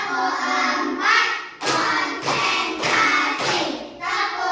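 A classroom of children clapping together in rhythm to a numbered clap chant, several loud bursts of group clapping separated by short pauses.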